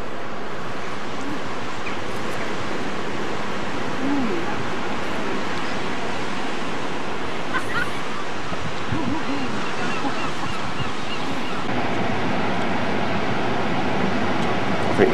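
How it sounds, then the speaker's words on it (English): Choppy sea waves churn steadily near Portwith, close to St Ives in Cornwall, a continuous broadband wash of surf mixed with wind rumble on the microphone, fairly loud and unbroken throughout. "It's very choppy, that water."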